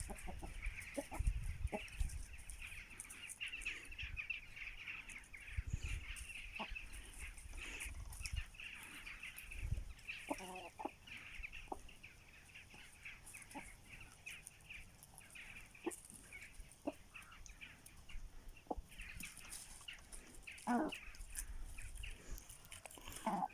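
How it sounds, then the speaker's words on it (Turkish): Several chickens cluck softly and intermittently nearby while eating, with occasional pecking and shuffling sounds in a quiet outdoor setting. "tavuklar hemen getirdiğimiz malzemelere saldırdılar"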